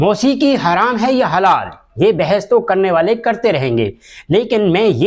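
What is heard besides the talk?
None of the usual background noises is heard.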